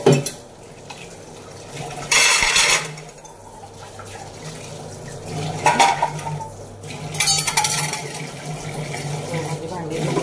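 Dishes, pots and utensils being washed at home, with clinks and clatters of metal and running water in bursts, close and fairly loud, under a speaking voice.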